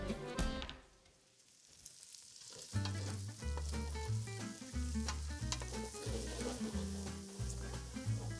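Onions go into a pan of frying bacon, and the fat sizzles and crackles. The sizzle sits under steady background music with a thumping low beat, and it dips briefly near the start before returning strongly.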